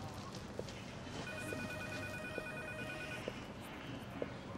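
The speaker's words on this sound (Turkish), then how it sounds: "Telefon çalıyor galiba Nihat abi." A telephone rings in a home in intermittent electronic trills that sit over a steady background, clear but not close, with no talk during the ringing.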